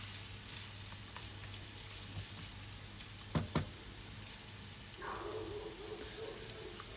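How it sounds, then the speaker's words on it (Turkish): Chopped carrots sizzle steadily in a hot pan, a soft continuous crackle with a couple of sharp knocks, then the frying swells as more is stirred in. "Üzerine doğradığımız havuçları ekleyerek havucu şöyle biraz kavuralım."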